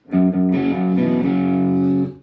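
A distorted electric guitar plays a riff in a lesson setting, with a few quick chord stabs and then sustained, buzzing chords that ring loud and close for about two seconds.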